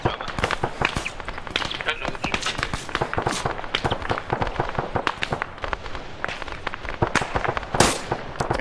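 Machine gun fire in a Falklands War video game, set around the battle of Goose Green, comes as rapid, sharp cracking bursts that run steadily throughout and mix with a voice speaking over them.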